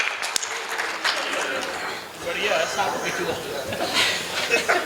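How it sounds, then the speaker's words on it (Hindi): Audience applause at a Hindi comedy poetry gathering, a steady mass of clapping mixed with chuckles and laughter lasting several seconds, moderately loud and continuous. "जोरदार तालियों के साथ"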